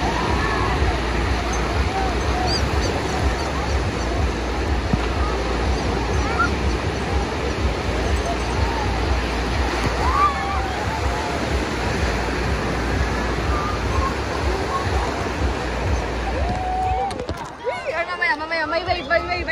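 Ocean surf rolls and breaks continuously at a La Union beach, a broad steady wash of water heard under voices chatting nearby, then cutting off abruptly near the end.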